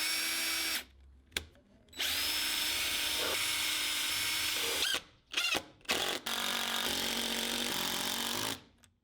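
A power drill bores holes into a wooden workbench vise jaw, loud whining bursts of several seconds each, stopping and restarting with short pauses and quick blips between runs.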